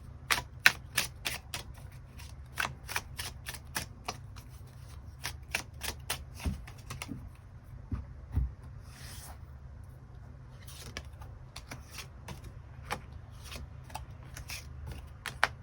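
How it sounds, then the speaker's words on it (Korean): Tarot cards shuffled and drawn in a run of crisp, rapid riffles and snaps, close and fairly loud, with a brief pause midway and no talking. "추가 카드 뽑아보도록 하겠습니다"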